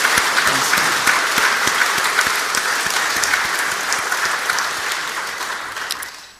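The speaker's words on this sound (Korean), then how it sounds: "큰 격려와 축복의 박수를 한번 해드리겠습니다" Sustained applause from a church congregation during a worship service, dense steady clapping throughout that fades slightly at the very end.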